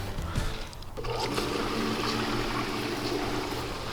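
Water rushes steadily through a Bestway above-ground pool filter hose as the pump runs on the filter setting to flush out gunk, a continuous close gushing flow after a brief start.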